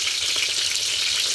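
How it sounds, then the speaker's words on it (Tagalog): Chicken frying in hot oil gives a steady, dense sizzle throughout, close and fairly loud, with no voices over it. "pati-prito ng chicken"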